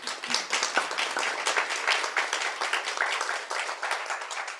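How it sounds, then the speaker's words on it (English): An audience at a school district candidate forum breaks into sustained applause, a dense, even patter of many hands clapping close by with no talk over it. "Now let us give all of our candidates a round of applause"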